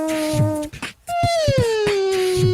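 A voice imitates a Formula One race car, a high, strained engine whine. It cuts briefly, then returns and sweeps downward in pitch like a car passing at speed, close and loud with no other sounds.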